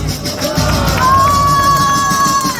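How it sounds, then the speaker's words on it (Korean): A rally crowd gathered outside a central post office applauds and cheers a journalist after his final speech, a loud, steady wash of many voices and clapping with a few sustained shouts rising above it. "마지막 연설해주신 이상호 기자님께 박수 한 번 주세요"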